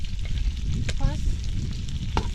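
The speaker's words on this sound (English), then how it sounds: "We fry these onions until they become golden brown before we add the capsicum." Onions frying in oil over a village cooking fire, a continuous close sizzle and crackle with occasional stirring scrapes and clinks.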